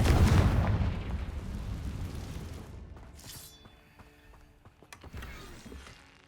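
A Confringo fire-blast spell in the Hogwarts Legacy video game erupts as one loud, booming burst at the start and fades into a rumbling tail, followed by a few fainter cracks and clicks.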